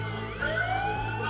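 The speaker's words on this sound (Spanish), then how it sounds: "una hilera de patrullas y una ambulancia pasó frente a nuestra casa con las sirenas a todo volumen" A line of police patrol cars and an ambulance pass in front of a house with sirens blaring at full volume, wailing tones sweeping up and down loudly and continuously with no talking.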